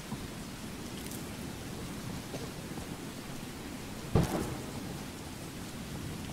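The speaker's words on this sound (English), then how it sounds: "We're going to brave the stormy weather" Steady rain hisses through a thunderstorm in the video game Skyrim, with low rumbling beneath and one sharp, close thunder crack partway through before the downpour settles back.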